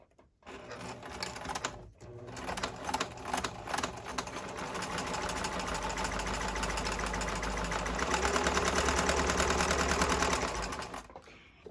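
Sewing machine running a long straight stitch through fabric, set to a larger stitch length, a steady close mechanical whir that starts, pauses briefly, then runs continuously for several seconds before stopping.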